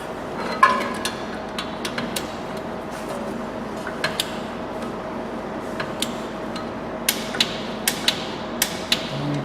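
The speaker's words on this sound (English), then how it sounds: "Now I've got my torque wrench already set" Torque wrench set to 70 being ratcheted to tighten a VW Caddy 1.9 TDI van's front wheel bearing, with repeated close ratchet clicks over a steady workshop hum.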